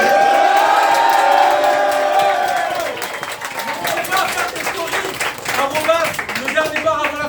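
A crowd at a Beyblade tournament held in a bar breaks into loud cheering, whoops and sustained clapping, with voices shouting over the applause.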